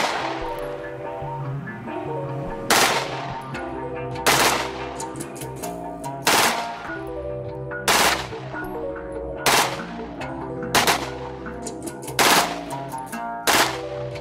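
Glock 18 pistol firing fully automatic, around 1,200 rounds per minute: about eight short, sharp bursts of rapid shots with a ringing, clanging background between them, loud and close.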